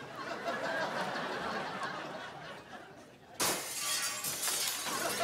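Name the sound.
glass breaking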